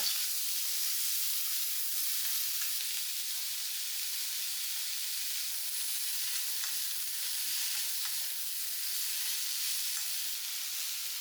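Chopped beans and green chillies sizzle steadily in a hot pan, a continuous close, even frying hiss with faint stirring scrapes throughout and no voices.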